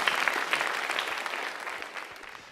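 A church congregation applauds together, a dense steady clapping that starts full and slowly thins and fades over a few seconds, with no voices on top.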